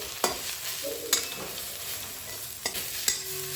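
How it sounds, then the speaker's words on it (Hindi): Chickpea greens stir-fried in a wok, with a steady sizzle and crackle and a few sharp scrapes and clinks of the spatula against the pan, close and alone without any talk. "अब हम इसमें साग डाल देंगे और उसे अच्छी तरीके से भून लेंगे।"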